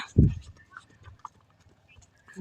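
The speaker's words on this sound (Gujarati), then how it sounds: "તો મિત્રો ગાયો નીકળી ગઈ છે" A herd of cows heads out from the farm, hooves clopping in a few scattered, uneven steps near and fairly faint, with soft voices in the background.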